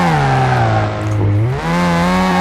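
A Mazda RX7 engine in the racing game Car Mechanic Simulator 2018 drones loudly and steadily near at hand, its pitch sagging briefly as revs drop then rising again.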